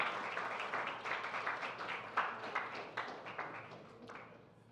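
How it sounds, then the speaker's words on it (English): Applause at a development conference as King Letsie leaves the room: a steady round of clapping with distinct individual claps, moderately loud, tapering slightly toward the end. "please once again give him a rousing round of applause"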